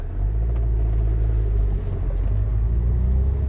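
A Rover 25 Commerce van, a barn find, drives out along country lanes with a steady low engine rumble and road noise, heard from inside the cabin, continuous and fairly loud with no talking.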